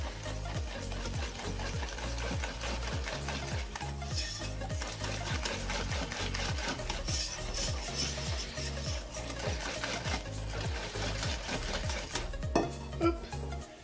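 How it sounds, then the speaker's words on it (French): A whisk beats crêpe batter in a bowl right after milk is poured in, a steady rapid scraping rhythm, close and continuous for many seconds with no talking. "Et on va pouvoir mélanger un bon coup."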